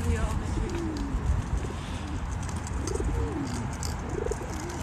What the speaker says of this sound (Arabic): طلعوا الطيور كيف؟